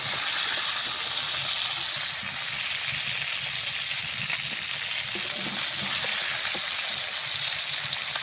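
Fish frying in oil, a continuous dense hiss and crackle of bubbling fat, fairly steady and close throughout, with no one speaking.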